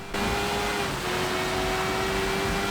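A motorcycle ridden in the video game Sleeping Dogs gives a loud, steady engine drone with a sustained tone that holds through the whole stretch.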